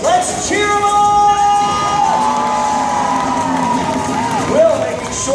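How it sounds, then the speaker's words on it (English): A live crowd at a Fear Factor Live stunt show cheers, whoops and yells in a steady loud roar, with shrill high voices rising above it throughout. "Audience, let's cheer him on."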